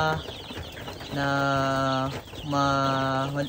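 Broiler chickens on a farm give repeated soft, high-pitched peeping calls in short bursts, close by, over light background noise.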